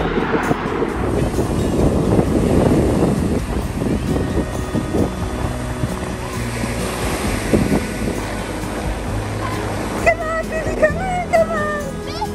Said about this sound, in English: It's a little breezy and windy.